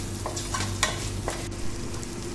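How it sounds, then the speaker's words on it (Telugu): Chicken curry stirred and fried in a pan over a medium flame gives a steady low sizzle, broken by a few soft scraping stir strokes. It stays close and even with no talking. "బాగా మీడియం ఫ్లేమ్లో పెట్టి బాగా కలుపుకుంటూ వేగించుకుంటే అడుగు మాడిపోకుండా ఉంటుంది"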